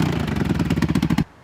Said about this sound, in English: I'm not gonna run this bike for long because it's got a pretty bad exhaust leak in the front